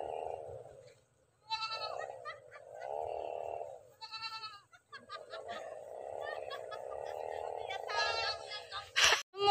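Several wavering bleats from a goat nearby, repeated in a loose series, with people talking at times.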